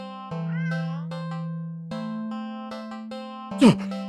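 A black cat with yellow eyes in a video game gives several short, clear meows over a steady low electronic tone, ending with a brief sharp louder yowl.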